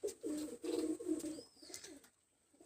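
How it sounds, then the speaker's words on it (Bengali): Low coos of golden pigeons sound in a few rhythmic pulses, close and moderately soft, then fade into near silence. "এই সে গোল্ডেন কবুতর"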